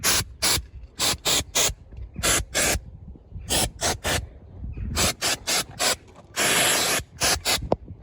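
Repeated short hisses of Turbo Can Millionaire scent spray inside a Ford Focus ST225, about a dozen bursts in irregular clusters, one longer sustained blast near the end, close and loud with faint rustling between.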